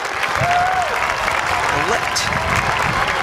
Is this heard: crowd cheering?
yes